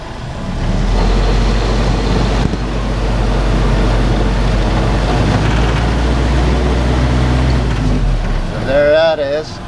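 A Willys CJ2a jeep with its L134 engine running in low gear gives a loud, steady low rumble throughout, ending with a brief whining sweep.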